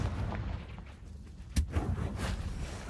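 A Confringo spell explosion in Hogwarts Legacy on PS5, heard as a single sharp blast with a short rumbling tail over a low ambient game bed, followed by a couple of smaller thumps.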